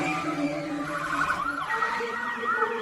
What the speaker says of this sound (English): The ambulance rushed her to the hospital